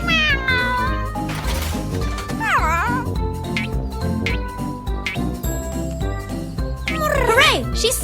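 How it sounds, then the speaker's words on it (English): Cartoon kitten meowing in a kids' animated show about construction vehicles and a fire rescue, with several rising, wavering meows at the start, middle and end over loud background music. "You have to save Kitty!"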